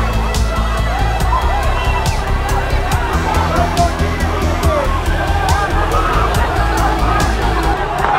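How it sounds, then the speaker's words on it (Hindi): Large crowd of thousands in chaos at Kabul airport, a dense continuous roar of overlapping shouting voices with scattered sharp knocks throughout. "काबुल एयरपोर्ट पर हजारों की संख्या में लोगों की भीड़ के बीच हंगामा भी हो गया"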